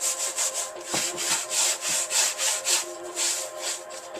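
Cloth rubbing a paint wash into new wood, a close scratchy back-and-forth rasp in steady repeated strokes, heard alone without talk.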